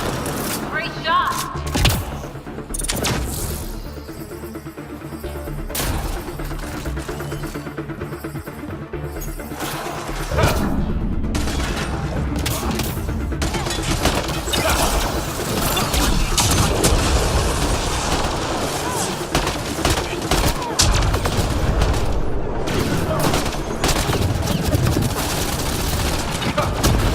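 Rapid bursts of gunfire and heavy booms from a Mass Effect Andromeda firefight, dense and loud throughout, with a player talking over the action.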